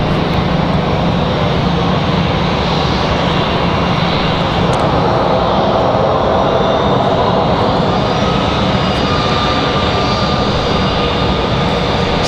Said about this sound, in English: Looks like we've got an A321 for American Airlines headed up the hill.